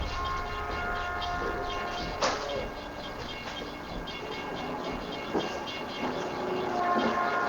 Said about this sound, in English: we're about 50 feet away from train tracks and trains actively passing every hour or so.